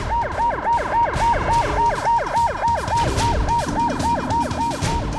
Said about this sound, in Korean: 한참 만에 선두에 선 사이렌 차량이 터널을 탈출합니다